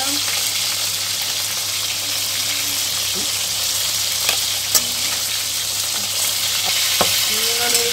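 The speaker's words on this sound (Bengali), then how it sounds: "এবার আলুগুলো ভাজছি।" Potatoes frying in a pan while cooking for Ranna Pujo, a loud, constant sizzle close by with a few light clicks of stirring and a voice now and then.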